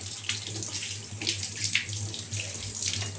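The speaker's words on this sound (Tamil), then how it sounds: "நான் கையை வாஷ் பண்ணிக்கிறேன்." A kitchen water tap runs steadily while hands are washed under it during egg rice preparation. The flow is a continuous, close splashing that holds the whole time, with no talking.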